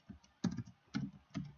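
Keys on a computer keyboard are tapped in a few short, soft clusters of clicks, close and quiet, with brief pauses between bursts and no voices.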